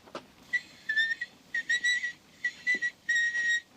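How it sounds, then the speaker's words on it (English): A seven-year-old girl's whistling plays back from a dictation machine, a thin recorded tune in four bright phrases with short pauses and faint clicks between them. "Listen to that kid whistle."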